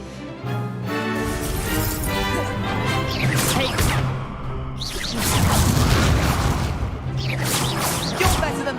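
Confringo fire spell blasts in a Hogwarts Legacy duel, loud crashing bursts and whooshes over a dense battle soundscape with swelling music, heaviest around the middle and again near the end.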